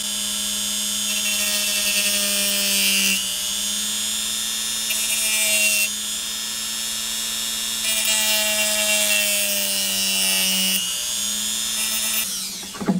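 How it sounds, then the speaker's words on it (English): A Dremel rotary tool grinds down the head of a broken action figure's joint post, giving a close, continuous high-pitched whine that holds steady for several seconds at a time with slight shifts in pitch and no talking. "And then we're going to Dremel it down."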